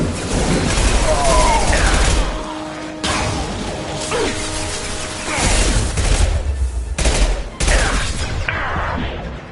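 Gunfire in the video game Mass Effect 2 comes as loud, dense bursts of rapid shots and mechanical clatter in several stretches broken by brief pauses, with a voice talking at times.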